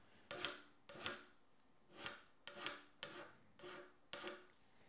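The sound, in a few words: hand scraper scraping cast iron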